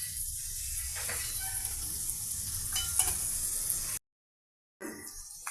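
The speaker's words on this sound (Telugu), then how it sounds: "ఆయిల్తో అల్లం చిన్నుల్లిపాయల paste, cocoa powder, red chilli powder అన్నీ కలిసి ఈ విధంగా ఎగ్స్ ఫ్రై అవుతున్నాయండి" Eggs fry in oil with ginger-shallot paste, cocoa powder and red chilli powder, giving a steady close sizzle with a few stirring scrapes. It breaks off into a short silence near the end, then the sizzle resumes.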